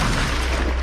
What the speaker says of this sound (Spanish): Ahí las explosiones y las ráfagas de disparos no cesan.